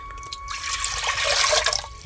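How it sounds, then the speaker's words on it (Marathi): Water is poured into a copper pot set on a wood-fired clay stove for village-style cooking: a steady, fairly loud splashing gush that builds over about two seconds, with no talking. "आता पाणी टाकायचं तांबर."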